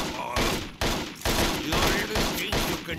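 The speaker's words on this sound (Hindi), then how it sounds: "शॉटगन बहुत अच्छा डैमेज कर रहा है।" Shotgun fire during a boss fight in the video game Total Overdose, heard as about six loud, booming blasts in quick succession with brief gaps, mixed with game effects.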